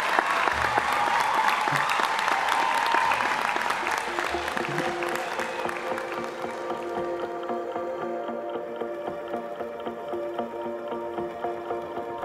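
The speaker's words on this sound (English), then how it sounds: "Could we please give a round of applause to Debbie Smith and the entire Torrens University" A graduation audience in Adelaide applauds, a dense, full wash of clapping that holds for about four seconds and then gradually thins as music with sustained tones rises underneath.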